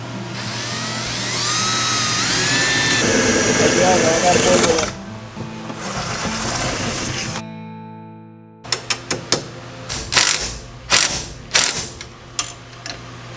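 A drill bores the first screw hole to fix a roof cap onto a self-built motorhome, whirring steadily and loudly up close, then a pause followed by clattering, ratcheting bursts of tool and mechanism noise.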